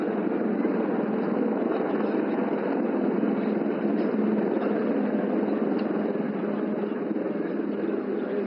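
A Rudra attack helicopter flies during a military firepower exercise at Pokhran, a continuous, dense rotor and engine roar held at a steady level, with a voice faintly present beneath it.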